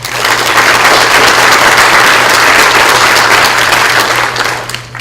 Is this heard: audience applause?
yes